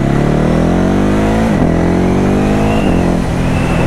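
Ducati Hypermotard 950 SP motorcycle accelerating hard, a loud close engine note climbing in pitch, dropping briefly at a gear change, then pulling up again.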